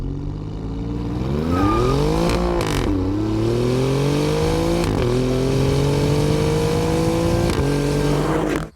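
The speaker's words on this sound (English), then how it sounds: "The Giulia Quadrifoglio." An Alfa Romeo Giulia Quadrifoglio engine revs up from idle, blips sharply, then holds a strong climbing note with a few brief throttle stabs before cutting off at the end, loud and near.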